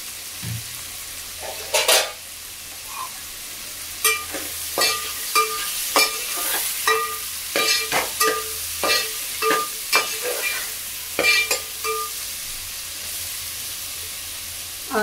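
Potatoes, green peas and carrots fry in a pan, sizzling in a steady hiss, while a spoon stirs and scrapes them in a series of repeated clinks and scuffs. No one speaks.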